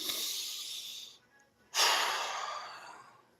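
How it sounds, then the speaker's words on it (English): A person takes a deep breath: a long airy inhale, a short pause, then a second strong breath that trails off slowly, heard up close and fairly soft. "taking a deep breath"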